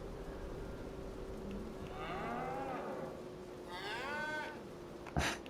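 Cows in the video game Farm Sim 25 moo twice in long drawn lowing calls over a steady farmyard ambience, with a short thump near the end and no talking.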